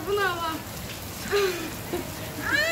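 Summer rain falls steadily in a continuous patter on a surface nearby, with people talking softly over it.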